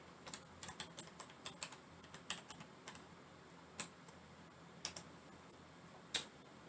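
Keys on a computer keyboard are tapped in quick irregular bursts while a Google search is typed, the clicks fairly close but soft and spaced further apart toward the end, with no talking.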